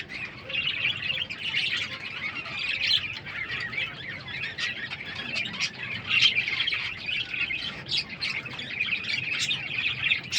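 Captive king quail, a breeding pair, call continuously with rapid high chirps and tweets, steady and fairly close, with no talking.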